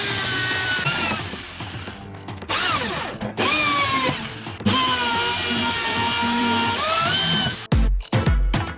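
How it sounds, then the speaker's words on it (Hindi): A power drill or driver runs in repeated whining bursts, winding its pitch up and down while screws fasten a PVC sheet onto a homemade RC John Deere tractor frame. The sound is close and loud, with short pauses between runs and no talk. "इसे फ्रेम के ऊपर कुछ इस टाइप से रख करके स्क्रू की मदद से टाइट कर देना है।"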